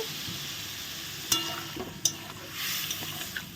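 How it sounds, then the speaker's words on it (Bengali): Ground spices (cumin, turmeric, coriander, chili powder) with a splash of water frying in a pan while cooking cauliflower, a steady soft sizzle broken by a few sharp spoon scrapes, close and fairly quiet. "মশলাটা দিয়ে আমি একটু জল দিয়ে দিলাম কষানোর জন্য"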